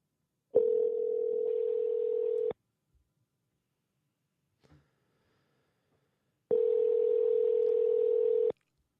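Telephone ringback tone while placing a call, two long steady tones about two seconds each separated by a four-second silence with a faint click between, clear and close.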